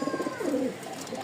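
Caged pigeons give a soft, rolling coo lasting about a second, close and clear with no voices over it.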